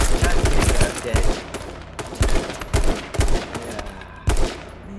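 Rapid gunfire in the video game H1Z1 King of the Kill, loud close bursts of shots in quick succession, repeating every half second or so without pause.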